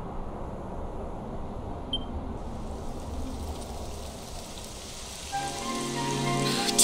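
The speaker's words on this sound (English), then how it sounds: "It would have to go and start raining, wouldn't it?" Rain falls steadily as a soft hiss in the video game Dragon Quest XI, joined near the end by a rising musical tone.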